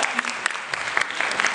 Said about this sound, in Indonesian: Oke, tepuk tangan dulu untuk Jamie.